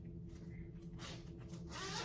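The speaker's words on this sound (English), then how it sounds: "It's one big zipper" A zipper on a Zip-It pencil pouch made entirely of one big zipper is pulled open, giving a quiet, close rasping run of teeth that grows louder toward the end, heard alone.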